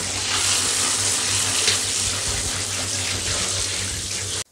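Running tap water flows steadily and close by while an Anthurium clarinervium is rinsed, making a continuous broad splashing rush that lasts the whole time.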